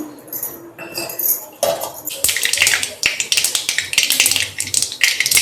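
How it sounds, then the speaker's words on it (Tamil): Mustard seeds crackle and pop sharply in hot oil in a pan, growing denser after a softer start, with metallic clinks of utensils. "கடுகு தாளிக்கிறேன்"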